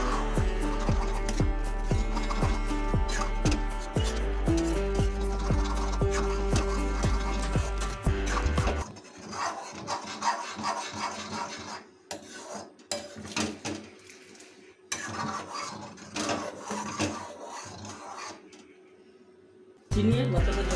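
Sago payesh gets stirred in a pot after sugar and batasha go in, with a steady run of clinks and scrapes against the metal while a voice talks over it.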